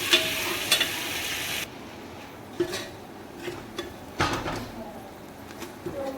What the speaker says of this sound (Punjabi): ਇੱਕ ਚਮਚ ਆਪਾਂ ਲਸਣ ਅਦਰਕ ਤੇ ਹਰੀ ਮਿਰਚ ਦਾ ਪਾਉਂਦੇ ਇਹਨੂੰ ਵੀ ਆਪਾਂ ਮਿਕਸ ਕਰਕੇ ਹੁਣ ਆਪਾਂ ਮੀਡੀਅਮ ਗੈਸ ਤੇ ਆਪਾਂ ਭੁੰਨ ਲਵਾਂਗੇ